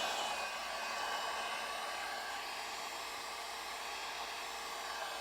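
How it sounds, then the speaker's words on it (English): A heat gun blows steadily while warming adhesive tape on a bumper guard for a Corolla hatchback, a constant close airy roar with no pauses or voices. "I'm going to do is take my heat gun, and I'm just going to heat this tape real quick"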